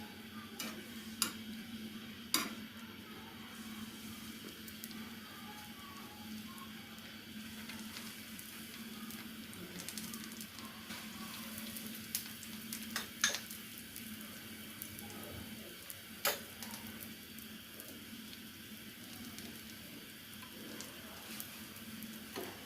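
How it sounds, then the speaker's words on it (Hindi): Bread pieces frying in desi ghee on a tava griddle for a Shahi Tukda recipe, a steady low sizzle running throughout with scattered light clicks and scrapes of stirring, no voices. "अब मैं तवे पे डालूंगी देसी घी और इसमें करेंगे हम ब्रेड के जो पीसेस हैं वो फ्राई कर लेंगे।"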